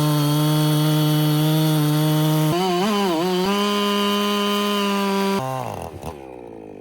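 A large 120cc budget chainsaw runs loud and close with a steady buzzing drone, revving up and shifting pitch partway through, then dropping off toward idle at the end.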